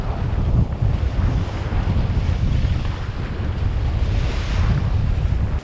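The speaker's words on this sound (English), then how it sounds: "It's a bit gusty and there's quite a bit of swell and chop." Gusty wind buffets the microphone over sea swell and chop aboard a small boat, a steady loud roar of rushing air and water with no voices.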